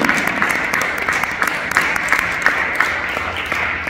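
A church congregation claps together during a sermon, a loud, steady wash of clapping with sharp individual claps standing out, sustained for the whole stretch.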